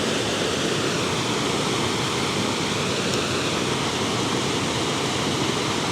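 Water pours steadily over Gardener Falls in a dense, unbroken rush of broadband noise, loud and constant with no voices.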